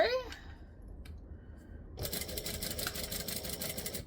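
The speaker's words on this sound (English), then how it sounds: "I'm going to stitch, back stitch, and up the center I go." A household sewing machine stitches after a brief pause, its needle running in a steady, close mechanical chatter for about two seconds; the back stitch is not distinct.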